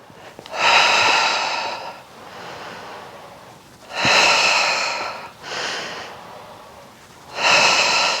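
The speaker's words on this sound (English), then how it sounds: "We exhale to pull down, and we inhale to circle around and back up." Loud, close breathing during an intermediate Pilates reformer upper-body exercise: four strong exhale and inhale bursts, alone and without talk, in a steady rhythm.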